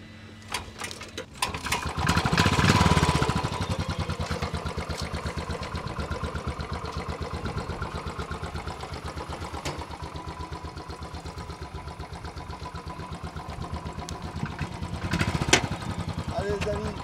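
A Royal Enfield Bullet 500 single-cylinder motorcycle kick-starts with a brief surge, then settles into a steady, close, thumping idle that runs evenly throughout, with voices talking faintly nearby.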